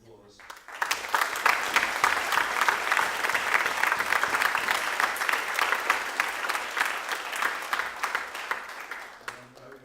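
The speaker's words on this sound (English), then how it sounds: "I'd like to give her a round of applause." Sustained audience applause at a Millbrook chapel talk, rising quickly and holding as a dense, steady wash of clapping for about eight seconds before tapering off.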